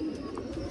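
A desi pigeon named Lakha coos steadily in a short, close burst, its low throaty call filling the moment with no speech.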